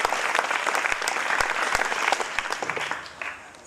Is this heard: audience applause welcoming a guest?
yes